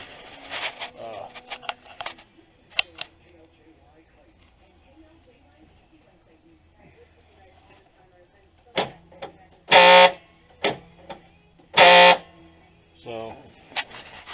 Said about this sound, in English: motor works, but it makes a horrible noise.